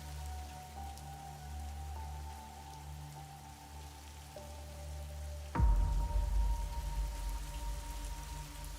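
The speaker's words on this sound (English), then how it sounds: "The rain in these parts of the country can last for days." Steady monsoon rain falls in India, a dense even hiss that grows suddenly louder and heavier partway through, with a low tone fading out beneath it; no voices.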